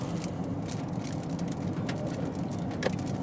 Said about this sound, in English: Why does it always start raining when I start recording?